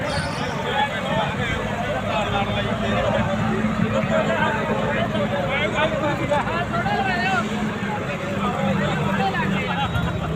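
A John Deere tractor in a Punjab village runs with a steady, loud, low engine drone throughout, while several people talk and chatter over it.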